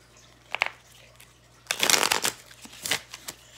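Tarot cards being shuffled in a few quick riffling bursts, with short pauses between and a soft hum underneath.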